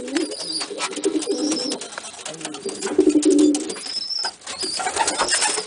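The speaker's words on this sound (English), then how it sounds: "Pigeons are very social and very emotional birds." Pigeons coo in low, rolling murmurs, several birds close by, with steady soft cooing throughout and brief higher chirps in the background.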